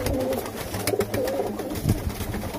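A flock of about 120 large, sturdy pigeons coos in low, overlapping rolling calls that run steadily throughout, close and fairly loud, with no one talking.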